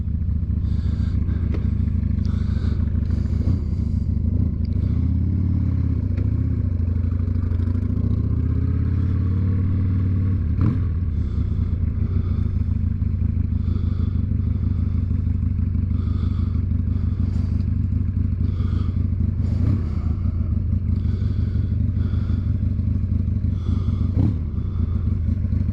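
A Harley-Davidson Sportster motorcycle rumbles steadily while being ridden around the block, its low engine drone loud and continuous, with brief rises in revs, clattering and a few thumps from the road, no voices.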